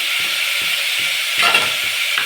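Spices frying in a pan while making set dosa, a loud, constant hiss of hot oil close up, with soft rhythmic clinks and scrapes of a spoon stirring at regular intervals.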